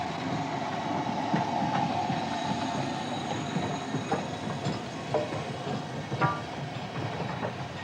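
A steam train rumbles steadily past on the line to Mallaig, Scotland, with rhythmic wheel clatter and occasional metallic squeals, a continuous loud roar with no voices.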